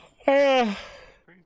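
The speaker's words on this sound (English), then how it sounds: "I'm sorry guys, I don't mean to yawn like that" A single drawn-out human yawn, voiced and falling in pitch over about half a second before trailing off, followed by a faint brief breath, alone with no talk.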